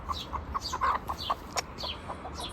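A small chicken with a crooked beak clucks repeatedly in short, quick bursts, fairly close, with a few sharper squawks mixed in.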